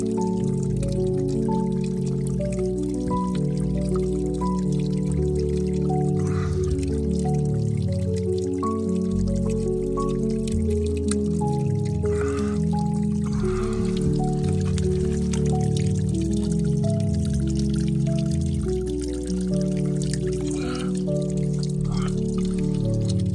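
Water trickling and pouring steadily from a spring on a jungle hillside in the Margalla Hills, a continuous close splashing stream with faint dripping, heard alone without voices.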